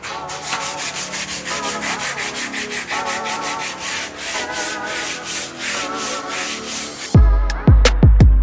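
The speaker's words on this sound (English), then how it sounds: "let's get some freaking sanding" Truck body parts on a rusty 6.0 Powerstroke being sanded by hand, a steady rhythmic scratchy rubbing that runs on for about seven seconds before a few loud close knocks and clatters at the end.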